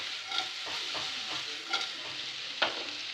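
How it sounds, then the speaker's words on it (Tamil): Slices of elephant foot yam fry in gingelly oil over a low flame, a steady soft sizzle broken by a few sharp scraping stirs of a spoon against the pan. "எண்ணெயிலே சுருளை வதக்கி எடுக்கணும்"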